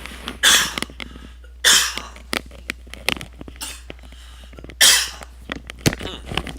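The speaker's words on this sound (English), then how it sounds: "Sometimes I get a cough and it's like, ugh, very irritating." A man at a chess session coughs three times in sharp, harsh bursts spaced a second or so apart, close to the microphone, with quiet clicks and small breathing sounds between them.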